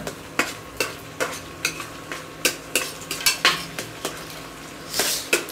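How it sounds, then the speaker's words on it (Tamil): Beaten egg mixture is stirred in a frying pan with a utensil, giving close, steady scraping and clinking strokes roughly every half second over a faint sizzle. "இப்போ இதில் வானலில் ஊற்றிடுறோம் மிக்ஸ் பண்ணதை அந்த முட்டையை வந்து ஆட் பண்ணிடுறோம்"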